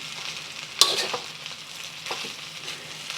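Fried rice pushed around a hot pan to separate the grains: a sharp spatula scrape opens, then a few more scraping strokes ride over a continuous close frying sizzle, no voices.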